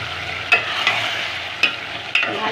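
Ginger, garlic, salt and bay leaf fry in a pan with a steady, close sizzle, broken by a few sharp clinks of a spoon stirring against the metal; no voices.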